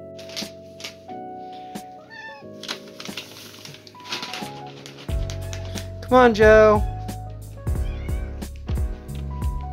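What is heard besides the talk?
hungry cat meowing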